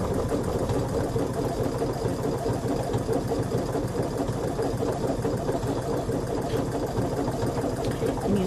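A computerized embroidery sewing machine stitches steadily over twill tape while making a zipper bag, its fast even needle rhythm loud and close throughout with no talking.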